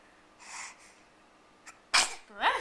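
A dog sneezes sharply a couple of times up close, with softer snorting breaths before, in a quiet setting.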